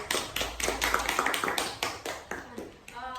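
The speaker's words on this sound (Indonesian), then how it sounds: "Wah, tepuk tangan gitu." A small group claps hands in a classroom setting, giving a quick, uneven burst of close claps that continues for a few seconds while a voice talks over it.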